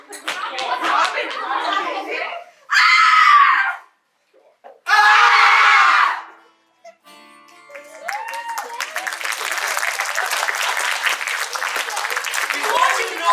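Performers in a stage drama at a school drama festival let out two loud, sustained screams between stretches of spoken dialogue. Noisy crowd sound with slaps follows.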